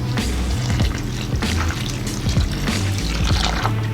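Water is tipped into a dry mix of liquid wallpaper silk plaster, giving a continuous trickling pour with splashy bursts, heard over steady background music.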